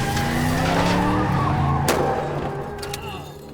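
Car engine revving as the MythBusters Mythmobile attempts a turn, with tire skidding and a squeal. Loud and close throughout, with a sharp bang midway before the noise fades.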